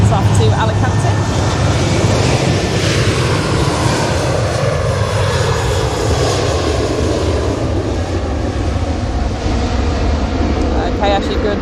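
Airliner departing Manchester for Alicante, a steady loud jet engine roar with broadband rumble sustained throughout, voices talking over it.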